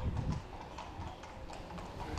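Horses pulling a carriage in a religious procession in Kester clip-clop in a steady, fairly close rhythm of hoof strikes, with faint background murmur and no clear speech.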